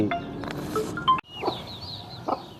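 A game-fowl rooster raised for sale clucks in short bursts close by, with a sharp squawk partway through and softer calls after it, over low background noise.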